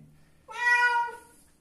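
A domestic cat gives one drawn-out, high meow while being bathed, loud and close, with a faint low murmur just before it.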